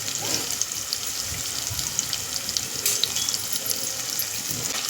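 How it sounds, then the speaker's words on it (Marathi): Finely chopped onion with a pinch of asafoetida frying in a pan for a sprouted-matki pulao: a steady, close, hissing sizzle that continues evenly throughout, with no talking. "कांदा व्यवस्थित फ्राय करून घ्यायचा आहे आपल्याला"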